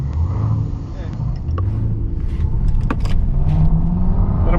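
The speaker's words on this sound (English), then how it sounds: "we have Andrew with the Tesla Plaid going up against, what is this? That's a actually Corvette" A car engine rumbles at close range at a drag race where a Tesla Plaid lines up against a Corvette, with a low steady drone under ongoing talk.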